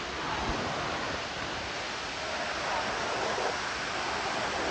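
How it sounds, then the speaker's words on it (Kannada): A waterfall roars as a steady, dense wash of falling water, loud and unbroken throughout with no pauses. "ನೋಡಪ್ಪ ಜಲಪಾತನ"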